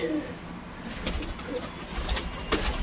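Soft coos from an imported pair of Teddy pigeons sounding intermittently over a low background rumble, with a few faint clicks and no talking.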